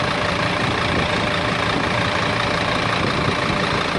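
A Mercedes Sprinter with a 2.7L diesel engine idles close by, a dense, unbroken mechanical rumble holding at a constant level with no voices.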